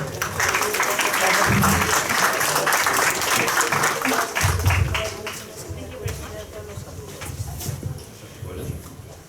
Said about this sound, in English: Please claps for both of them.